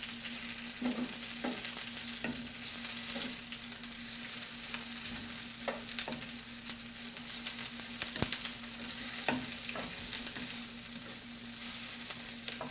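Onions sauté in oil in a pan as the base of a seafood boil sauce, giving a steady, soft sizzle with occasional stirring scrapes and clicks throughout, and no voices.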